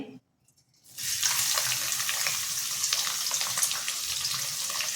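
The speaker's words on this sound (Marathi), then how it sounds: "आता त्यामध्ये आपण कांदा टाकून घेऊया" Chopped onion dropped into hot oil in a pan, breaking from near silence into a loud, steady sizzle that continues unbroken to the end.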